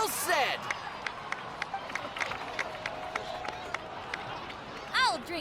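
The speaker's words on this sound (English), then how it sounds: "please give another round of applause for them" Crowd applause and cheering rise in a Genshin Impact cutscene set in Natlan, a dense mid-distance patter of clapping running steadily under a low hubbub.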